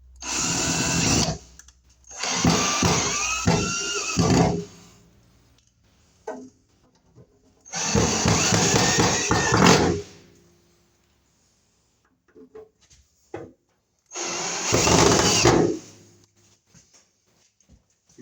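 Several bursts of a cordless power drill driving screws while a range hood is mounted in an apartment kitchen, each run lasting a couple of seconds and separated by quiet pauses and small handling clicks, close and fairly loud.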